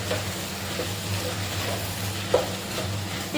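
Crab being stirred in a pan with pepper powder and garam masala for a Kerala crab roast, a steady low sizzle with soft scraping strokes and one brief clink near the end.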